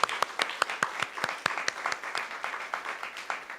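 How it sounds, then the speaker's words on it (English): An audience in a church service gives a round of applause, a dense patter of many hands clapping at moderate distance, steady and fairly quiet with a few sharper individual claps standing out. "now we can give a round of applause to everybody"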